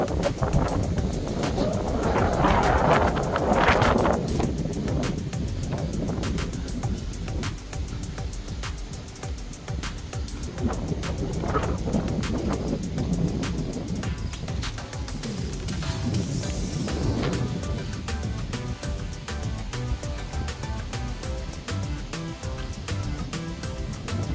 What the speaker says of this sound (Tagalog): Mas malakas ang hangin dito kumpara doon sa Sabana.